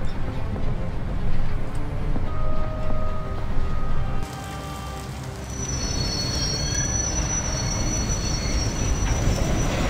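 A moving train in the adventure game A Golden Wake, a steady rumbling roll of wheels on track with thin squealing tones from the wheels, continuous and fairly close, with no talk.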